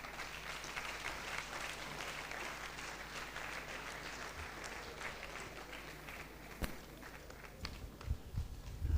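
An audience in a university hall applauds at an inaugural lecture with sustained, even clapping, fairly distant. It thins near the end, when a few louder thumps and claps stand out.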